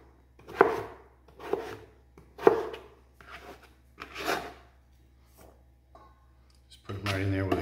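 A knife dicing vegetables such as carrots on a cutting board for Brunswick stew, with about seven separate close chopping strokes in an uneven rhythm, each a crisp thud with a brief scrape, and a louder rustle at the end.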